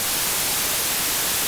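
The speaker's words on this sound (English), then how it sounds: "Now this is what white noise normally sounds like." Steady white noise fills the clip, a dense uniform hiss spread evenly across the whole range, loud and unchanging, with nothing else heard.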